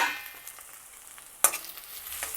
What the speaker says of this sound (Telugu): మధ్యలో ఒకసారి కలపాలి.